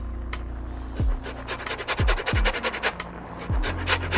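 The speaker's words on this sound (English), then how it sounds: "I'm just going to grate some lime zest into the mussels dish" Lime zest is rasped off the fruit over a dish of mussels, with short scratchy grating strokes coming in uneven bursts close to the mic.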